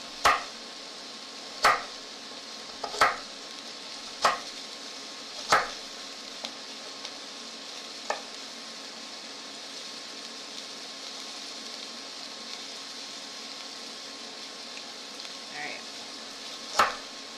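A knife slices food on a cutting board while making shepherd's pie, with sharp, distinct cuts spaced a second or more apart over a faint background hiss.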